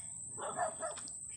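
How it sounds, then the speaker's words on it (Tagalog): Dogs at a house in Malaysia give a brief bark or two at moderate distance, set against a constant high-pitched insect-like drone. "Ang daming aso."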